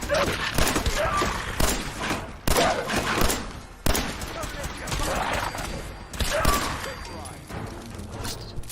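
Pistol fire in the Fallout 4 video game, a string of sharp loud shots in irregular bursts with impact thuds, under someone talking intermittently.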